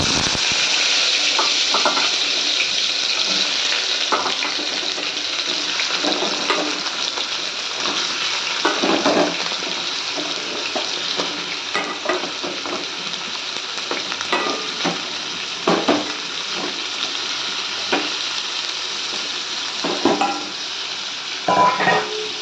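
Potato and pumpkin pieces sizzle in hot oil with panch phoron, a crackling fry heard up close. Intermittent scrapes and clinks from stirring in the pan break through the sizzle.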